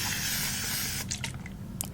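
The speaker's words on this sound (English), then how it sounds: "when it comes to spraying people down" A water spray bottle hisses continuously for about a second while spraying hair, then several short, quick spritzes follow, close by with no talking.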